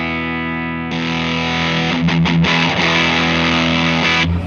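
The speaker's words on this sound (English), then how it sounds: "offering is a saturated, nice, fat distortion" A distortion guitar pedal gives a heavily saturated, thick, fat distorted electric guitar playing sustained chords, loud and steady, with a brief choppy break in the middle.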